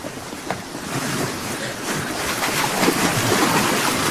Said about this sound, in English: Listen. The sea.